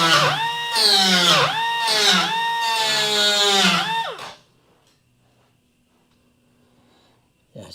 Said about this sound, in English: This die grinder is awesome.